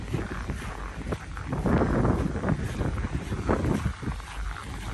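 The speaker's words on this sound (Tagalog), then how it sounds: "Lakas pa ng hangin, oh." Strong, cold gusting wind in Canadian winter roars and buffets the microphone in a continuous rush, swelling louder in the middle, with no voices.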